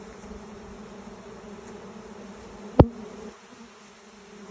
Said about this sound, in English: Look at all the thousands of bees here.